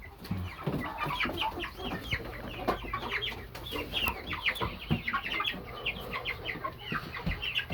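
A flock of silver lace Wyandotte chickens, part of about fifty birds kept together, clucks and chatters continuously in a close, busy chorus of overlapping short calls.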